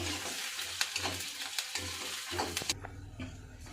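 Onions frying in a pan until they turn grey, with garlic cloves, for a tribal flower dish; steady sizzle with intermittent stirring scrapes and clinks, close and moderate in level, no talk.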